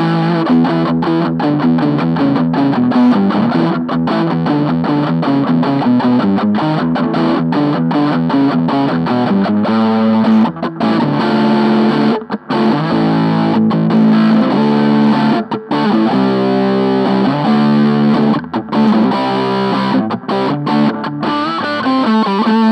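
An electric guitar through an MXR Distortion Plus pedal plays a long, continuous distorted riff of chugging chords and notes, loud and steady, with short gaps between phrases and no voices.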